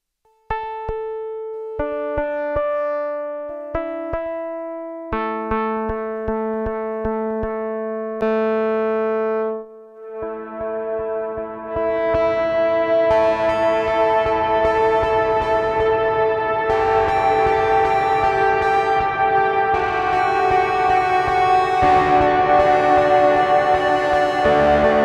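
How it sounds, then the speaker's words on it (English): Electric guitar through a Walrus Audio Melee pedal on its pink ambient reverb, clean picked bell-like notes ringing out one by one, then swelling into a loud, dense wash of sustained chords with long trails. "This is a huge reverb capable of massive trails and engulfing your chords into an angry wash of sound"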